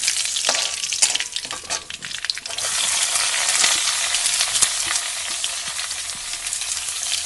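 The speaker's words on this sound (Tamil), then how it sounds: "வெங்காயம் சேர்த்து நல்லா வதக்கிட்டோம்." Onions sautéing in hot oil with mustard seeds, asafoetida and curry leaves for a chayote chutney, a loud continuous crackling sizzle with occasional stirring scrapes, close up and with no voices.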